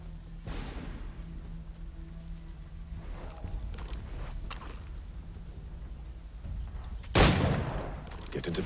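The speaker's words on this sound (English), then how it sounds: "When I open fire on the group" Assassin's Creed 3 game sounds carry scattered gunshots and booms amid background rumble, ending in a single loud sharp blast near the end, with no talking.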